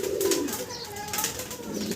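Fancy pigeons, including double-crested white-barred section shields, cooing at a pigeon sale, a low throaty warble close and continuous, with faint background noise.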